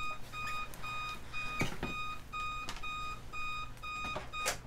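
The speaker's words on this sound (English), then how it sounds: "And that's my alarm clock." An alarm clock beeps in a regular electronic pattern of repeated short tones, fairly faint in the room, with a few soft thumps in between.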